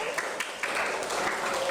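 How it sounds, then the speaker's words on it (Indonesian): Brief applause in a classroom for students, a short patter of clapping from a group with a voice mixed in, lasting under two seconds. "kita kasih tepuk tangan lagi"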